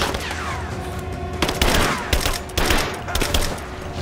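Weapon fire in the video game Rise of the Tomb Raider, with a rapid fusillade of loud shots in bursts over a steady background rumble.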